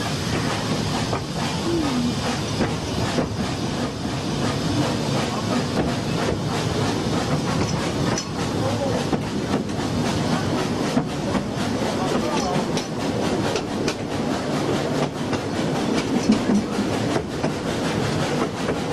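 A railway train runs on through North Wales scenery with a continuous rumbling roll and rhythmic wheel clatter, heard from inside a coach at moderate loudness.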